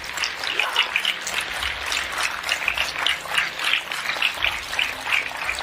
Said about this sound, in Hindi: तो हो जाए एक जोरदार तालियां आपके सेहत के नाम पे